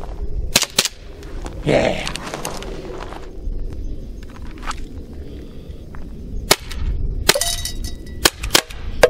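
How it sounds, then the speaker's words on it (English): A BB gun is fired at targets outdoors, giving a few sharp, loud cracks spread across the stretch with quiet gaps between them and a brief spoken word early on. "if you're gonna shoot BBs, safety glasses"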